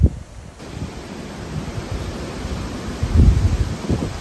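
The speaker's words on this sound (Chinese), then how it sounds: "刮风了" Wind blows at night around a shepherd's hut campsite in England, a low, rumbling buffet against the microphone that gusts stronger near the end, with no other clear sounds.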